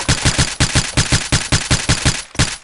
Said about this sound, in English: Pretty sure 9 stands for 9mm, but this is a pretty cool gun.